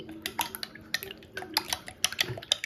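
A raw egg with ground black pepper and salt is beaten in a bowl, making quick, irregular clinks and taps of utensil on the bowl with a faint wet stirring sound, close by and fairly quiet.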